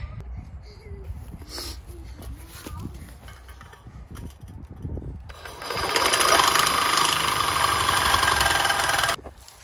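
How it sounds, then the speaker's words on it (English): A reciprocating saw with a new 18-teeth-per-inch blade cuts through the exhaust pipe of an old Ford pickup. A loud, steady buzzing rasp starts midway and runs for several seconds after quieter scraping and handling noises. "Used my brand new 18 teeth per inch reciprocating saw blade"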